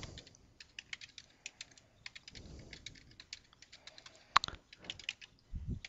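Typing on a computer keyboard in quick irregular bursts of light clicks, fairly close and quiet, with short pauses and a louder thump near the end.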